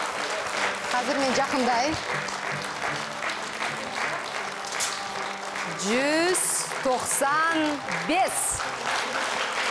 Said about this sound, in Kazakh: Ал, қол шапалақтаңыздар.